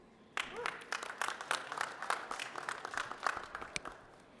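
Applause from an audience at a Lunar New Year celebration, a burst of many hands clapping that starts suddenly and keeps a steady, dense patter for several seconds at moderate distance.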